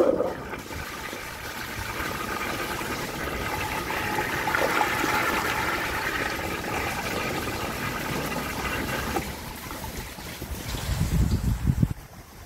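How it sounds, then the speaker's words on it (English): A 1983 American Standard Baby Devoro children's toilet flushes in one steady rushing surge of water lasting about ten seconds, followed by a louder gurgling drain as the bowl empties. "Despite it being less powerful than normal, the flush is still really awesome"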